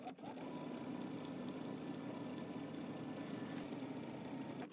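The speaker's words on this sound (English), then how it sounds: "We're going to go ahead and understitch about 1/8 of an inch away from that seam." A home sewing machine understitches a dress front band about an eighth of an inch from the seam, running in one steady continuous buzz close by for nearly five seconds, with no talking.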